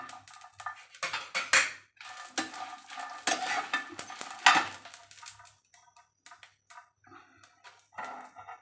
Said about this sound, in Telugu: ఎల్లిపాయలు కూడా నూనెలోనే వేయించుకోవాలి.